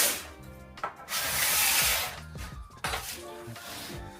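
A card scraper shaves oak in a few rasping strokes, each a bright scratchy rush between short pauses and light handling knocks, close and moderately loud.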